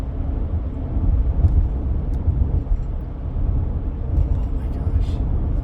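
A car engine heard from inside the cabin, in fifth gear at about 2,000 RPM while climbing a 20-degree hill: a low, steady rumble with road and wind noise, fairly quiet and constant.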